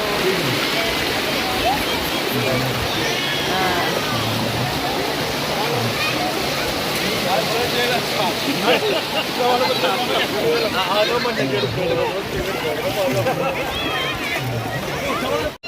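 A big wave crashes and splashes at a water park with a constant, loud roar of churning water. Voices shout and talk over it throughout.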